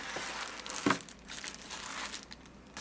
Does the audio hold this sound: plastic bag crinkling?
yes